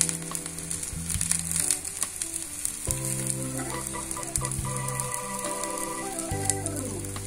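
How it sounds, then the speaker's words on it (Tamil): Sesame oil sizzles and crackles around a tapioca adai frying in a pan, a dense steady frying hiss with bubbling pops, joined by a sustained tonal hum partway through, no talking. "நல்லா நல்லெண்ணெய் விட்டுக்கலாம். சைட்ல ஃபர்ஸ்ட்ல விட்டுக்கோங்க"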